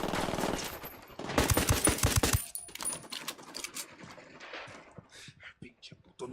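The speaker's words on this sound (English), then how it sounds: "I'm opening fire." Rapid bursts of automatic gunfire ring out in a Ghost Recon Wildlands firefight against cartel enemies, loud and close at first, then trailing into scattered shots and clatter with voices mixed in.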